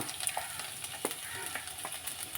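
Garlic and ginger fry in hot oil with a steady, crackling sizzle and scattered sharp pops.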